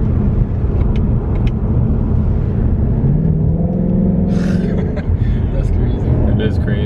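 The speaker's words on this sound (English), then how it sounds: "watch when I put it in track mode, the car just like wakes up" A Ford Mustang GT Premium engine, switched into track mode, rumbles loud and close with a rising rev in the middle, heard under people talking inside the car.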